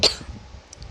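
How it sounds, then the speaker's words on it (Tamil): A person coughs while playing a Roblox musical chairs game. A short, sharp cough sits close to the microphone at the start, with another brief throaty burst at the end and a quiet pause between. "கொஞ்சம் இருமல் வந்துட்டு."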